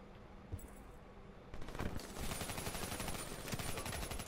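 Sustained automatic gunfire aimed at the player in a multiplayer shooter game, dense overlapping bursts growing louder after a quieter opening, with no talk over it.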